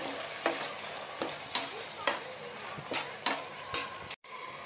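Rice manchurian sautéing in a pan with vinegar and soy sauce, a steady close sizzle broken by about seven sharp spatula scrapes and stirs at a regular pace, ending in a sudden cutoff.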